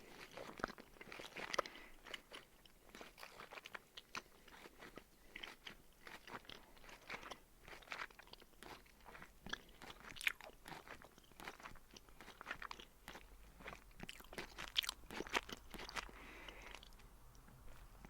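Crunching and chewing of plant-based Joyride candy eaten by the handful, with dense, continuous close-up crunches and bites throughout and no talking.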